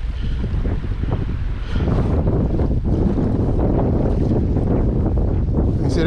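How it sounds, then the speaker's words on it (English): Wind gusting and small waves slapping and splashing around a kayak on marsh water in a 12 to 13 mph breeze, with heavy rumbling wind buffeting on the microphone and continuous close choppy water throughout, no voices. "You see, that's waves at 12 to 13 mile an hour wind."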